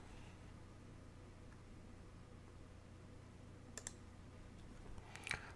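A computer mouse clicks faintly a couple of times in short pairs over a quiet room hum, close by and with no voices.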